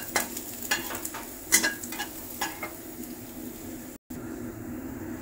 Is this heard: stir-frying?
yes